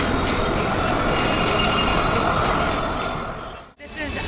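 A metro train runs at Tin Factory station, its steady loud rumble and wheel noise filling the space before fading briefly near the end, with voices talking over it.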